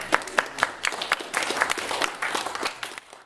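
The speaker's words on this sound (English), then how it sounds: "So another round of applause for Adam." An audience at an Austin JavaScript meetup claps after a talk, a moderate patter of hands that is fairly close and fades near the end.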